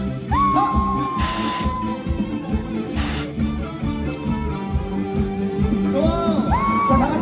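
A concert crowd at an outdoor festival in Pohang claps and whoops loudly and steadily over live music and singing, with scattered shouts and whistles rising throughout.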